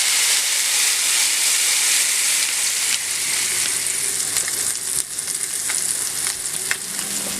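Steady, loud sizzling of salmon frying in hot oil, a dense continuous hiss with occasional crackles and pops throughout.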